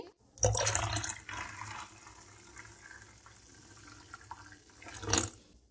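Water poured into a whisked yogurt and gram flour batter for Shahjahani kadhi, a splashy rush at the start, a softer trickle in the middle, then another brief gush, close and clear with no talking.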